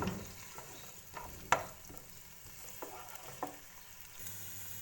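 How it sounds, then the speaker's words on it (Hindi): Sliced onion fries in a little oil for chicken yakhni pulao, producing a faint, steady sizzle broken by a few soft clicks of a stirring spoon. "अब प्याज को हम लाइट ब्राउन करेंगे।"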